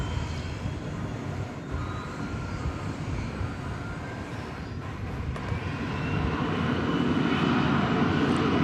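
Airliner taking off from runway 18 left at DFW Airport, a steady broadband jet roar heard from a distance that swells louder toward the end.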